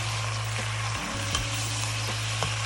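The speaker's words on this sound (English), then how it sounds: "So you're gonna let it unfold in the oil and to fry a little bit" Dried black mushrooms unfold and fry in hot oil for Haitian diri djon djon, a loud continuous sizzle with a steady low hum underneath and a few small pops, with no talking.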